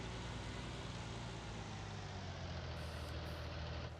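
Low, steady rumble of a tractor engine in Farming Simulator 19, droning continuously with a faint reversing beep higher up, no talk over it.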